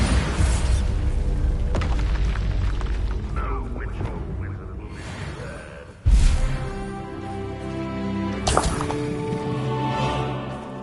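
A Bombarda blasting spell explodes in a Harry Potter video game, with a sudden loud boom midway and a second lighter burst later, among mechanical game effects and a voice casting spells.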